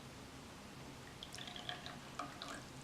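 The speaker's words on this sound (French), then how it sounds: "l'eau du pichet va être transvasée dans les tasses" Tea is poured from a small pitcher into cups during a gong fu cha session with a gaiwan: faint, quiet trickles and a few light drips, with soft clinks near the end.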